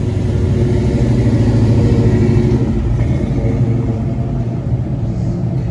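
A 1993 Ford Mustang Cobra Fox Body V8 idles loudly with a deep steady rumble, rising slightly at first before settling, heard close up at a downtown Fort Myers car cruise.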